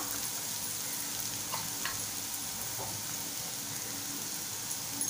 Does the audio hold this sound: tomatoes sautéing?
yes